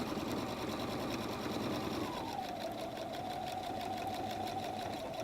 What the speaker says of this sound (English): I'm going to back stitch, stitching across that chalk line to the other end of the flap.